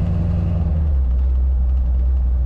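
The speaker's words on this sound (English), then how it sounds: "Today we're driving a 1955 Ford F100 panel truck." A 1955 Ford F100 panel truck on the move, its engine giving a steady low rumble that settles into a deep continuous drone, close and loud throughout with no talking.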